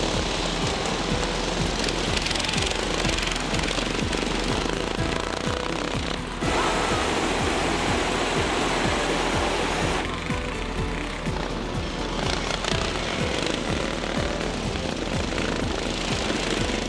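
Racing lawnmower engines roar continuously around a grassy track turned to mud in worsening conditions, a loud, steady mechanical drone with slight swells that never drops out.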